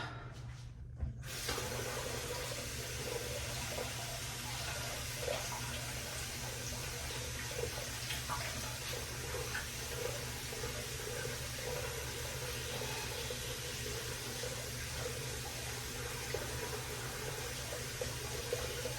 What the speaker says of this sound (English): just trying to rinse out my razor a bit